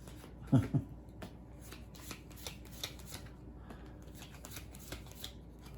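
Cover Your Cookies cards being dealt out to players, a couple of soft slaps near the start followed by quiet, sparse card flicks and light handling noises.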